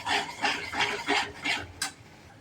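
Red chili powder is stirred into paneer sabzi in a pan, with a steady run of about six close scraping strokes in an even rhythm, heard alone.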